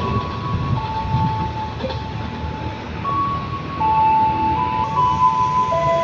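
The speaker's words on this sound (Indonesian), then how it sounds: "ada KA Mataram melintas langsung" A Mataram passenger train passes straight through a station, rumbling steadily with continuous rolling noise, some faint high tones drifting over it, loud and close throughout.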